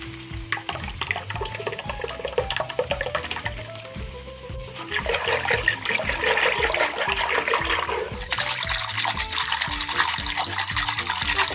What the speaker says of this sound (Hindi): और अभी दही डाल के वो भी फेंट लेंगे।